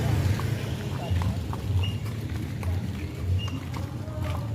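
Hooves of a horse being ridden clip-clop in a steady rhythm at a town square during a Ramadan afternoon outing, under constant crowd and street noise with people talking nearby.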